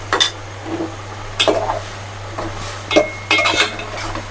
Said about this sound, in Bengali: এবার ফুলকপিটা ওই মশলাতেই কষিয়ে নিচ্ছি